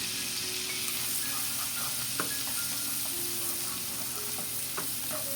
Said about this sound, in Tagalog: Kapag natunaw na ang ating butter, ay maglalagay naman tayo ng garlic.